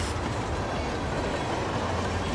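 A train rolls steadily along rails in the video game Hitman, a continuous close rumble with faint clickety-clack of wheels and no voices.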